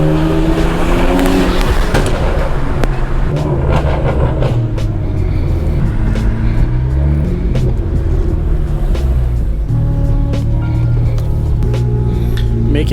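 A loud BMW 335i engine heard from inside while driving, a steady rumbling drone with shifting revs and road noise, voices talking over it.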